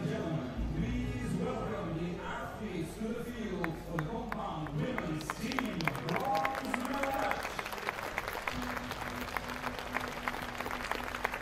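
Crowd applause at a compound archery women's team bronze medal match at the world championships, light scattered clapping building up as teams walk out, under continuous commentary.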